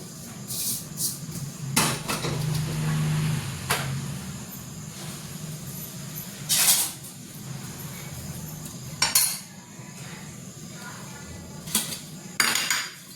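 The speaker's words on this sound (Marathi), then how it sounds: "तर इकडे मी कढई ठेवते" A metal wok clanks and scrapes onto a stovetop several times, sharp clatters separated by a low background hum, with no talking.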